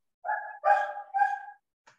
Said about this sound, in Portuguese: Tem um cachorrinho latindo aí